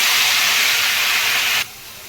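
Amaranth and curry leaves drop into hot oil in a pan, giving a loud, steady sizzling hiss that cuts off abruptly to a much quieter background.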